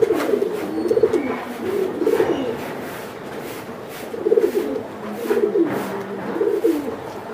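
Strong racer pigeons coo repeatedly nearby, low throaty rolling calls arriving in several bursts over a constant background hiss, with no talking.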